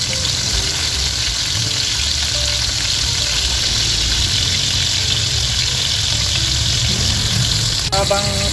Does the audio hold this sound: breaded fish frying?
yes